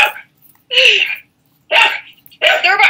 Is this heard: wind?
no